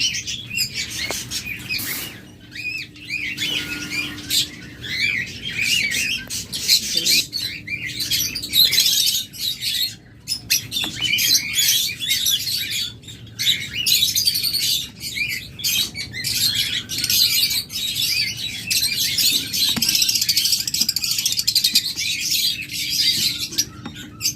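Caged lovebirds chirp and squawk constantly in a dense, busy chorus, close and lively, with no talking.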